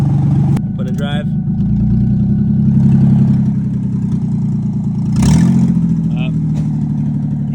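A beater V6 car engine idles with a low, steady rumble as it is shifted into drive, swelling slightly once or twice, with a voice talking over it.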